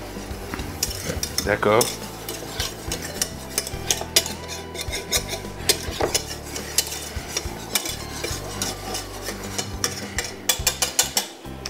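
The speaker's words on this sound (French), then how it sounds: "Je mets mes 50 grammes de farine. Je fouette tout de suite." Flour is whisked into melted butter in a pan for béchamel, a busy run of metallic whisk scraping and clinking against the pan with light sizzling beneath, close and fairly loud, with a brief spoken word.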